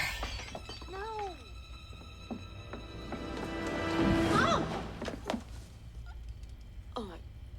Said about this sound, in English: I broke a wine glass.